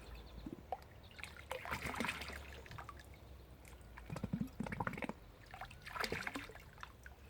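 Water running and sloshing as a lab grab sample bottle is filled and rinsed out, a soft trickling and gurgling in uneven bursts, close and fairly quiet.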